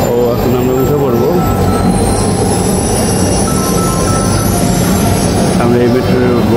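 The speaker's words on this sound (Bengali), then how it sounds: "এই যে কাঙ্ক্ষিত আমাদের মেট্রো রেলটা এসে গেছে" A metro rail train pulls into a station platform, its steady rumble and high wheel squeal filling the space over a busy, talking crowd of passengers.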